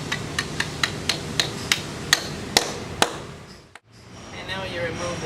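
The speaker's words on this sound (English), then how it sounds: "you just take your sledgehammer and drive it into the hole" Sledgehammer driving an anchor into a hole drilled in concrete for a diamond core drill stand, about ten sharp metallic strikes in a quickening, intensifying series, then a pause and a voice.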